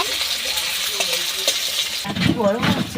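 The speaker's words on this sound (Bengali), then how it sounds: "পেঁয়াজগুলোকে লাল লাল করে ভেজে নেব" Onions fry with green chillies in oil in a wok, a soft steady sizzle with occasional scraping and stirring clinks, with a louder burst of sizzling near the end.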